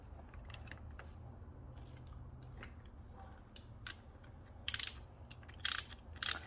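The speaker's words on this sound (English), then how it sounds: "So we're just gonna use a 10 mil socket" A ratchet with a 10 mm socket snugs a timing belt tensioner bolt on a Honda H22A4 engine. Quick clicking ratchet strokes build to a few louder bursts of close metallic clicks near the end.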